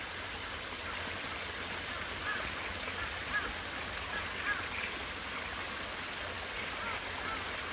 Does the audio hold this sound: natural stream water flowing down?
yes